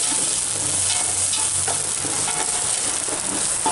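Onion and carrot fry in a splash of oil in a pan, giving a dense, continuous sizzle with faint stirring scrapes, close and loud throughout.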